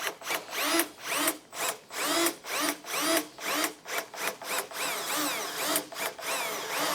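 Power drill repeatedly boring out aluminum rivets from a snowmobile tunnel on an IQR 860 big bore sled, with short loud whining bursts that bite and release in quick succession, close up and with no talking.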